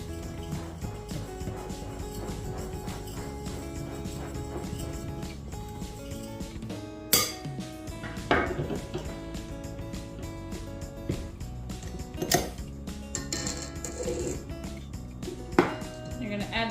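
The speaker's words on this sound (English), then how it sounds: "you're going to add your salt and your baking soda. And you're just going to whisk that together" Flour, salt and baking soda whisked together in a bowl for brown butter chocolate chip cookies, a continuous close scraping rattle of the whisk against the bowl, broken by a few louder clinks.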